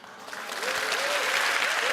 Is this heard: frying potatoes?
no